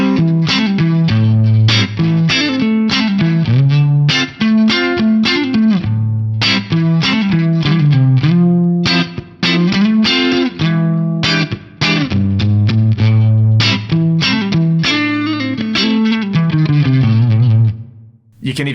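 Chord rolls on an electric guitar with distortion play close and loud, a steady run of quick, rhythmic strummed and hammered chord figures with brief pauses between phrases.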